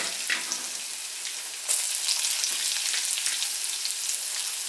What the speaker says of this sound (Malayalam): അപ്പൊ അത് ഒരു ബ്രൗൺ കളർ ആകുന്നവരെ നമുക്കൊന്ന് മൂപ്പിച്ചെടുക്കണം